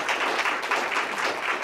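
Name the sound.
audience applause for the speaker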